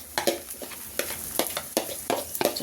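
Oat omelette batter dropped into hot oil in a pan, giving soft crackling sizzle with repeated sharp spattering bursts, close and moderately quiet.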